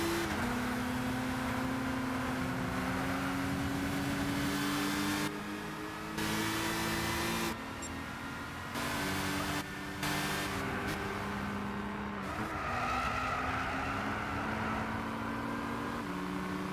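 Racing-game engines in Gran Turismo 6, with powerful cars including an Aston Martin and a BMW: a steady, loud engine drone with shifting tonal whine that holds level throughout, broken by a few short drops.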